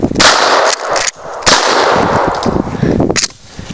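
A shotgun loaded with slug and buckshot fires at a fridge door, giving two loud, sharp blasts about a second apart plus a third, followed by clattering impact noise, with no talk.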